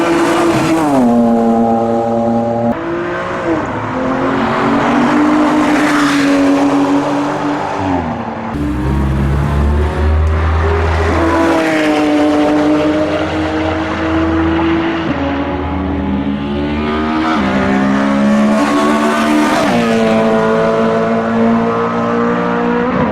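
Race car engines roar past one after another, pitch rising and falling as they accelerate and shift gears, loud and continuous.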